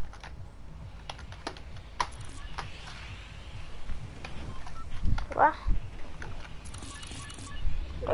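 A computer keyboard and mouse clacking during a gaming session, quick scattered key taps and clicks at moderate level under faint background game noise and a low voice.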